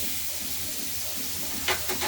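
Steady frying hiss of rohu fish pieces, rubbed with salt and turmeric, in hot oil in a wok, a soft continuous sizzle with a couple of brief sharper spits near the end.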